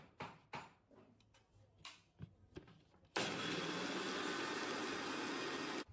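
A mixer grinder jar spins a cup of sugar, starting after a few scattered clicks and knocks with a loud, steady whirring grind that runs unbroken for the final few seconds.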